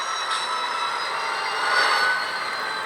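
Train beginning to roll after its brakes are released during local switching in Huntington Beach, a steady broadband rush and hiss with faint metallic squeal, no voices.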